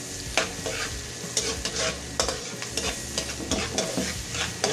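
Onions sautéing in a pan for roast beef vegetables, a steady frying sizzle broken by several sharp stirring scrapes and clatters, close and fairly loud with no talk.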